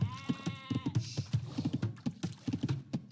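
Sheep in a real-time strategy video game bleat briefly at the start, followed by a rapid run of close keyboard and mouse clicks.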